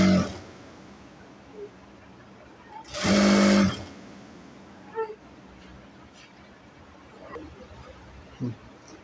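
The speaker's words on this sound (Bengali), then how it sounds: "আমরা আরেকটি পা সেলাই করে নেব।" A sewing machine stitching the leg of a palazzo salwar runs in one loud continuous burst of under a second, with quieter handling clicks and light rustling before and after.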